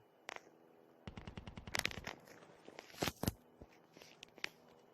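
Automatic and single gunfire in the mobile shooter Call of Duty Mobile: a rapid burst of shots, scattered single cracks and a couple of louder blasts over quiet game ambience.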